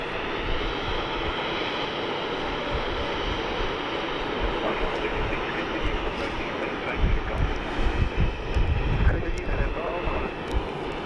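A Qantas airliner landing at Sydney Airport gives a steady, broad jet roar that swells slightly toward the end, heard from the ground with faint voices around.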